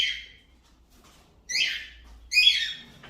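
A pet cockatiel gives three harsh, high squawking calls, the last two louder and closer together, with quiet pauses between.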